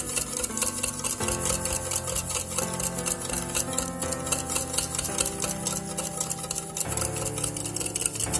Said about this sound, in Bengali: এবারে খুব ভালো করে চিনিটা গলা পর্যন্ত এরকমভাবে নাড়াচাড়া করতেই থাকবো